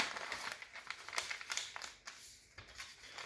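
Half a sheet of newspaper is folded and creased into a seedling pot, giving soft rustles and crinkles in uneven bursts, close and faint, with no talking.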